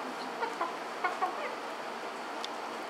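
Chicken clucking on a farm, a few short clucks around the first second and a half over a steady outdoor background, moderately close and not loud, with a faint insect-like buzz.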